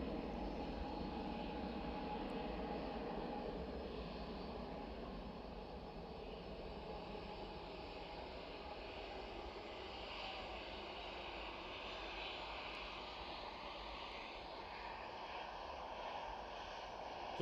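A KLM Cityhopper Embraer E175 jet at Amsterdam Schiphol airport produces a steady, broad engine roar heard from a distance, sustained and even throughout with no talking.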